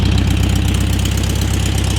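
A 1974 Volkswagen Beetle engine idles with a steady, rapid air-cooled chugging rumble, close and loud, with no talk over it.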